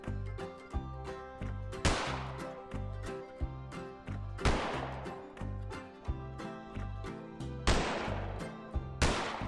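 Gunshots at targets in a Wild West shopkeeping video game: a handful of sharp, well-spaced shots, each ringing out with a decaying tail over a steady looping background music bed, moderately loud.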